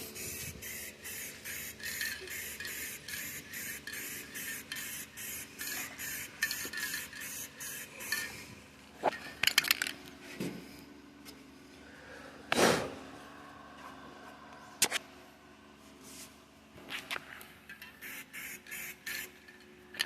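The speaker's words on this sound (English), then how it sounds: "And I spray paint the area." Aerosol spray paint hissing onto a 1950 Chevy truck frame during a 4x4 frame swap with a 2004 GMC, in a series of short rhythmic bursts followed by a few longer sprays separated by clunks and handling noises.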